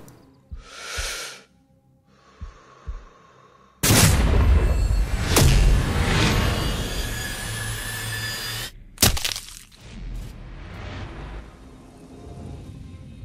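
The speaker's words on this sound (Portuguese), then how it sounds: "Dá um tiro aqui logo, tá? Um disparo," A sniper rifle shot in the game Sniper Ghost Warrior 3 bursts out loud and sudden after quieter game sounds, then rolls into a long reverberant tail, with further sharp cracks following.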